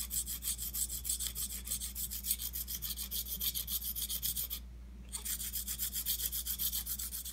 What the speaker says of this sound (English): hold the pencil very flat to the sanding block, pushing inwards and rotating the pencil as you go.